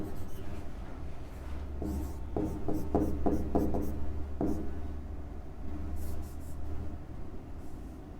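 Chalk or marker scratching across a classroom board in short strokes and taps, set against a constant low hum, with a brief voice in the background.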